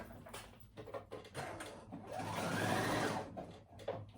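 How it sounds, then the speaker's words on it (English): A sewing machine zigzag stitching overlapped fabric pieces for a batwing summer dress, a close, quiet rapid mechanical whir in short runs that builds into a longer steady burst, with no talking. "put them together and overlap them and zigzag stitch them together."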